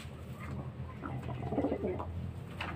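Racing pigeons coo steadily in a soft, throaty series of low calls, close by over a constant murmur of background noise.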